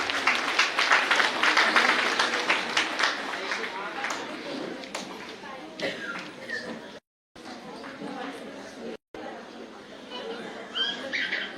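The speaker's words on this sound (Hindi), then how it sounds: "तो जोरदार तालियों से मैं निशांत भाई का स्वागत करती हूँ मंच पे" An audience at a New Year celebration at a retreat centre in Bhagwanpur, Bihar claps loudly for several seconds to welcome a dancer on stage, the applause fading as a voice speaks over it.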